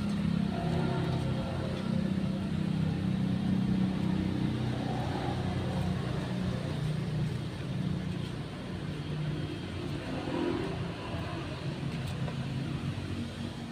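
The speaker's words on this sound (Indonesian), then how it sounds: "ini dekat pinggir jalan karena berisik mobil" Cars and other motor vehicles pass along a nearby roadside, a steady low rumble of traffic that swells and fades through the whole stretch, with no talk over it.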